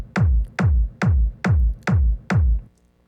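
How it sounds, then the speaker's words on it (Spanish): Six hard techno kick drum hits built as a layer in an Ableton Live drum rack, punchy and booming with a pitch-dropping tail, evenly spaced at a steady pulse, loud and alone, then a short fade to near silence. "La primera capa es el hard kick como tal y este hard kick nos suena así"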